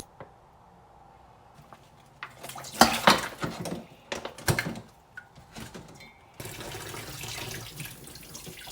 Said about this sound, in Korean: 전복을 흐르는 물에